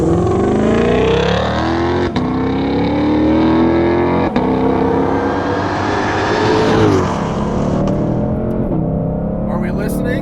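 A 2020 Shelby GT500 muscle car's engine roars loud and close, rising in pitch through hard acceleration with sharp breaks at each rapid gear shift, continuing strongly to the end.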